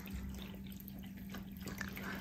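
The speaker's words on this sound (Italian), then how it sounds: "gli fa anche il circolo dell'acqua e in più con il filtro qui la filtra, quindi rimane sempre pulita." A pet water fountain circulates and filters water, giving a quiet, steady trickle and soft dripping over a low, constant electric hum from its pump.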